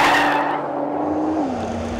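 A 2013 Nissan GT-R Black Edition is driven hard on a lap, its engine note holding steady then dropping in pitch as it eases off, with a short tire squeal at the start.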